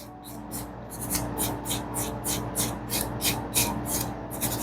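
Steady back-and-forth rasping of a hand file on a nail of a practice hand, quick regular strokes repeating close up with no talking.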